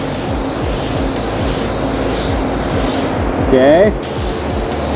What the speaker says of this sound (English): Even though I'm going to spray the upper part of this as well, I'll show you how nice and tight you can keep this.